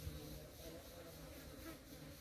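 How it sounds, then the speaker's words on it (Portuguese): A soft, steady drone of flies and bees feeding on mangoes outdoors, continuous low buzzing without any voices. "São moscas se alimentando das mangas aqui, ó."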